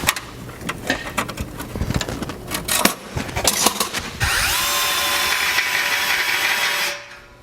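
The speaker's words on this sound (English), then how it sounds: "that has got to be the dullest drill bit I've used in a while" A power drill with a dull 5/16 bit grinds and chatters through material in uneven bursts, then settles into a steady high whine for a few seconds before stopping.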